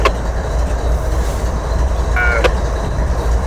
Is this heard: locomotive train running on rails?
yes